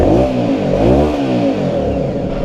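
An Aprilia Shiver 750 motorcycle engine revs up and down close by, loud and continuous, with a suspected exhaust blow; no talking.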